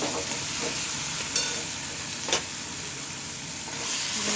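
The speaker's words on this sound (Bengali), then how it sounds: "ভালো করে এবারে এর সাথে পোস্ত আর সর্ষের সাথে ভালো করে নেড়ে নেব" Spinach greens with poppy seeds, mustard and chopped tomato stirred in a pan, a steady soft sizzle with a few sharper scrapes of the spoon, no talking.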